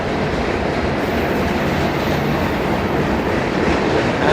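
A long freight train pulled by eight locomotives rumbles steadily past up close, a continuous heavy roar of rolling wagons with faint rhythmic clatter from the wheels.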